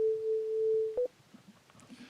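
FM synth operator with a chorus effect sounding a steady pure tone for about a second, then a brief blip after a short break, leaving a quiet noisy background.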